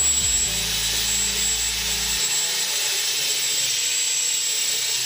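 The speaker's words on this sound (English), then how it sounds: "Now that the drone is powered, let's start the motors." Electric motors of a homemade quadcopter built with an APM flight controller spin up with a brief low startup sound, then settle into a loud, steady high-pitched whine that carries on alone.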